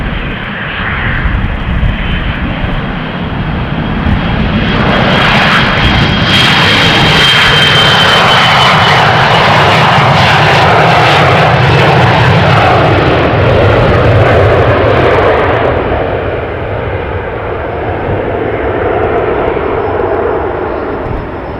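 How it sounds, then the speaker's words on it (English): An Embraer 175 jet takes off from Amsterdam Schiphol, its engine roar rising into a loud, sustained broadband rush that peaks mid-clip and then slowly eases as the aircraft climbs away, with no talk over it. "the next one is rolling already, the Embraer 175"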